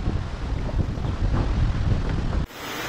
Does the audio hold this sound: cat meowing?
no